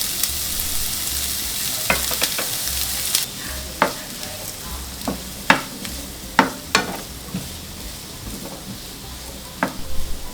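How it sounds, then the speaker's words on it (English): Diced onion stir-frying in olive oil in a frying pan over low heat for shakshuka, a steady soft sizzle punctuated by several sharp clicks and scrapes of stirring against the pan. "After that we can put in the diced onion and start stir frying"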